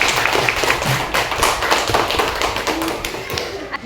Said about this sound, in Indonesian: Tepuk tangan untuk si Rehan.